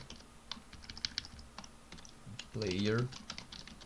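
Code being typed on a computer keyboard, a quick run of light, close key clicks with a brief burst of speech partway through.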